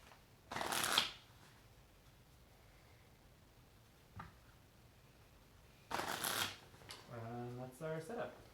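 An encounter deck of cards for a tabletop game is shuffled in two brisk bursts several seconds apart, crisp and close in a quiet room, followed by a short spoken voice.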